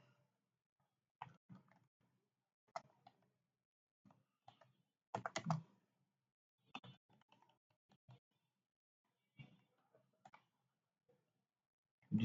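Keys on a computer keyboard tap out a visa appointment letter in sparse, irregular bursts of clicks with quiet gaps between them. The clicking is close and fairly soft, with a small flurry of keystrokes in the middle.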